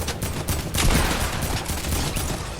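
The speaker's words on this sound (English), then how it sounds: "that's some horrible shooting" Rapid burst of gunfire in the Fortnite video game, a dense continuous volley of shots with sharp repeated cracks, loud and close with no talk.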